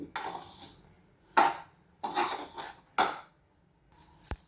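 A metal spoon scrapes and clinks against a pot while sugar is mixed into rava laddu mixture, four or five short bursts of scraping separated by pauses, ending with a sharp clink, close and fairly quiet.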